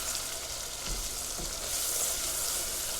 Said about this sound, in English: Keep stirring it because this is where it'll scorch really bad if you're not stirring it.